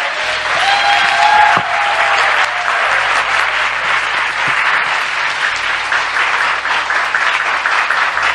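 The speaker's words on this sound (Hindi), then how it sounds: "आइए इसके लिए ताली बजाएं हम।" An audience claps loudly and steadily throughout, a dense, sustained applause from a crowd at a religious gathering, with faint voices underneath.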